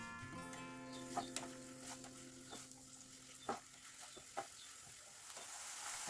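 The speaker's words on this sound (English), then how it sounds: "Add 1 finely chopped onion and saute it for 2 to 3 minutes." Finely chopped onion sautés in oil in a pan, giving a faint, steady sizzle with occasional soft stirring taps.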